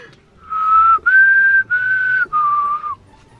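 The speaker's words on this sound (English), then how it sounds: "You did the whistle." A person whistles a short melodic phrase of four sustained notes in a row, clear and close, with brief gaps between them and no talking.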